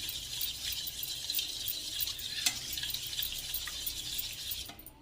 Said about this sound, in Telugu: ఈ మాదిరిగా వేసేసినాక వంటలు లేకుండా మిక్సింగ్ అనేది చేసేసుకోవాలి బాగా